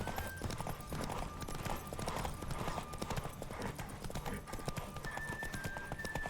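Rapid, steady hoofbeats of a galloping horse in The Witcher 3 pound on without pause, with rushing wind and a faint tonal music line running underneath.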